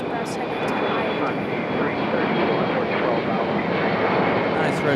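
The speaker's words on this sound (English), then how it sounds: "Our next departure is the United Express heading to Raleigh." A United Express airliner departing Raleigh-Durham International Airport gives off a loud, sustained engine roar close by that holds steady throughout. No one speaks over it.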